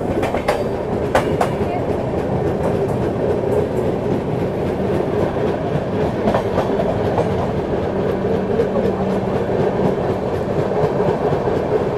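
The Chennai Lucknow Express rumbles along the tracks toward Jhansi, heard as a continuous loud roar from inside an AC coach, with rhythmic wheel clicks and clacks and a brief squeal from the rails.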